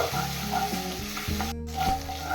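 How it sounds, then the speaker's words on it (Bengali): Ginger and green chilli paste frying with asafoetida for radhaballavi, a strong, close, steady sizzle with stirring, briefly broken by a short gap. "আদা কাঁচা লঙ্কা বাটা হিঙের সাথে আমি 2 থেকে 3 মিনিট কষিয়ে নেব"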